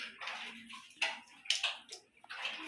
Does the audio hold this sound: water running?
yes